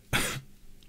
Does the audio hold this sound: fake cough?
yes